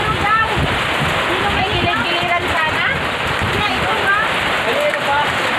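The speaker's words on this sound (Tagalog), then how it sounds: "Ang lakas ng ulan." Heavy rain pours steadily onto surfaces during an outdoor gathering where a whole pig is roasted, a dense, even hiss with scattered drips and splashes. Voices talk faintly underneath.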